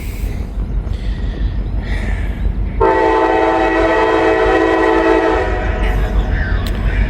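A CSX steel coil freight train rumbles past in Carlisle, and partway through its horn sounds one long, loud, sustained blast over the rolling noise before fading back into the rumble.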